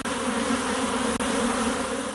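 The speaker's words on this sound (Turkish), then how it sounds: "Bingöl Bal Arısı diye isimlendirdiğimiz bu ekotip" Bingöl honey bees, a local Apis mellifera ecotype kept at a university beekeeping research centre, give a dense, loud, steady buzz of many bees close by, with no talk.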